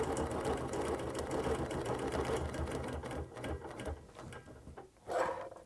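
A sewing machine stitches a quilt in a fast, steady mechanical whir with rapid ratcheting needle strokes, slowing and stopping near the end before a brief restart, close and alone.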